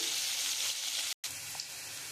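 Bori, small sun-dried lentil dumplings, fry in a pan with a faint, even sizzle that cuts out for a split second before resuming.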